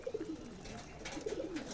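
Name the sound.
pigeons cooing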